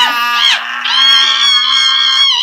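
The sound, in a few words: person screaming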